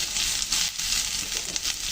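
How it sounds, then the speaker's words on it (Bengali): Potatoes and chopped onion fry in a pan with a close, steady sizzle and crackle, pulsing slightly as the food moves. "এখন দিয়ে দেবো পেঁয়াজ কুচি, আলু আর পেঁয়াজ আবার সুন্দর করে ভেজে নেব।"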